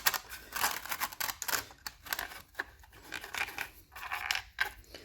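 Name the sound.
nylon screws being handled and started by hand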